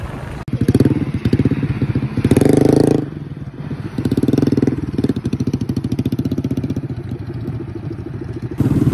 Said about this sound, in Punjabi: ਬਿਕੋਜ਼ ਬਾਈਕਾਂ ਦੇ ਸਿਲੰਸਰ ਲੱਥੇ ਹੋਏ ਨੇ, ਮੋਡੀਫਾਈ ਸਿਲੰਸਰ ਲਗਾਏ ਨੇ ਇੱਧਰ ਵੀ